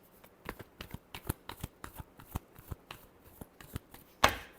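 Tarot cards being shuffled by hand, a series of quick crisp riffling flutters in an uneven rhythm, close and fairly quiet, ending with a sharper slap of the deck.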